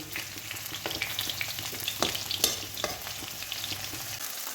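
Fish frying in a pan, a close, crackling sizzle with occasional pops and light scraping, steady throughout without any voices.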